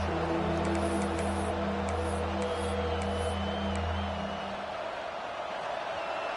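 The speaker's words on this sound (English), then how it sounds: "Here comes this home crowd as the defense tries to get off the field on third down." A home crowd at a football game roars steadily as the defense tries to get off the field on third down, a dense, sustained wall of noise with scattered whoops and whistles that eases slightly toward the end.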